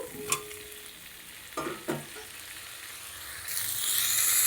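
Tomato goes into a pan of boiled potatoes for a Bengali rui fish curry with okra, giving a few soft thuds and scrapes, then a steady sizzle that grows louder toward the end.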